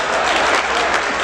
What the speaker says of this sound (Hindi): और ये जो लोग ताली बजा रहे हैं यहां पर